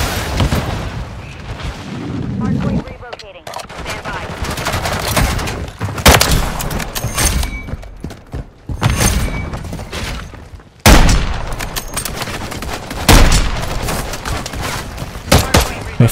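Rapid gunfire and booming shots from the KATT AMR sniper rifle and other weapons in a multiplayer shooter match, loud sharp bursts arriving irregularly with brief gaps, some overlapping, amid busy game noise.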